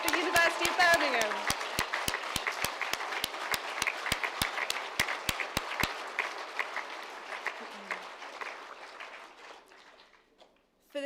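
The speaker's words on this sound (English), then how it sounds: "let's give ourselves a massive round of applause" University of Birmingham graduates applaud together in a dense burst of clapping that starts loud, thins out gradually and fades toward near silence, with voices mixed in.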